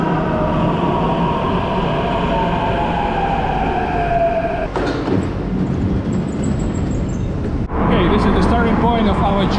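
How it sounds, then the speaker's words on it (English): Rumble and whine of an Istanbul subway train on the new line to Sabiha Gökçen Airport, a steady rolling roar with a falling tone and a brief shift partway through, with some talking inside the carriage. "the first means of transport that we're going to use today is going to be the subway."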